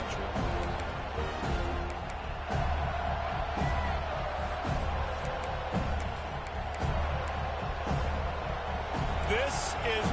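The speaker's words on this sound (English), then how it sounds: "This crowd ready to make its presence known." Big stadium crowd roaring steadily at a Florida State college football game, a dense continuous wash of cheering with a commentator talking over it.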